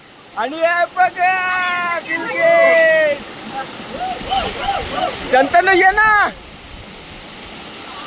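Water rushes steadily at the Gavli waterfall, a rainy-season picnic spot, a constant broadband roar under excited voices talking close by.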